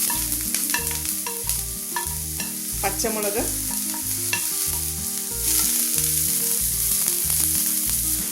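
Onion and green chili sautéing in a tablespoon of heated coconut oil with ginger garlic paste for Kerala beef puttu, a steady close sizzle broken by regular scraping stir strokes and a brief metallic clink, with no voices.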